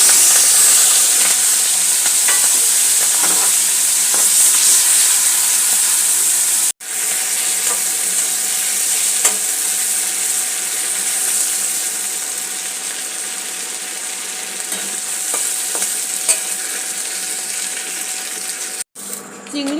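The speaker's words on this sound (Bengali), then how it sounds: "নিয়ে সবার প্রথমে আমি চিংড়ি মাছটা খুব ভালো করে ভেজে নেব।" Prawns coated in salt and turmeric fry in mustard oil in a wok, giving a loud, steady hissing sizzle that carries on throughout, broken by two brief sudden drops.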